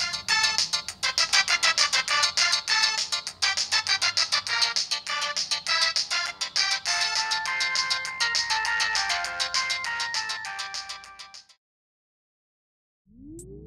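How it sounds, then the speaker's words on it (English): A bright electronic ringtone melody from a 2003 Xelibri mobile phone plays on repeat, loud and busy, then stops abruptly into silence. "the only bright point I could find in this thing was the ringtone library"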